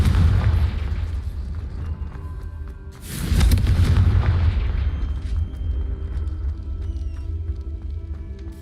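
A Confringo fire-blast spell explodes in Hogwarts Legacy, a loud booming burst whose deep blast swells and then rumbles away, following an earlier lower rumble.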